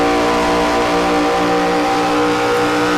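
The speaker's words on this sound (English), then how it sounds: "they have to lift there heading to the corner. You can hear it get off the throttle there." Race car engine in the iRacing video game at a Daytona Beach event, a loud sustained high-pitched engine drone holding steady as the car lifts off the throttle, with no voices over it.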